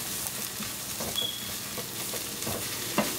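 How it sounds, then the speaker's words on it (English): Spices being stirred into a pan of browned, frying onion tadka (coriander powder, garam masala and cumin) for palak paneer, giving a steady soft sizzle with light scraping strokes throughout. "I'm going to bring the spices, the coriander powder, garam masala, cumin powder and mix it well."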